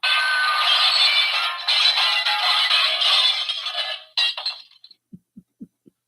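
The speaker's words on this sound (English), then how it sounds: "Broken glass." A glass-breaking sound effect plays on a live shortwave radio stream: a loud, sustained crash and shatter for about four seconds, then a burst of tinkling shards and a few short, fading clinks.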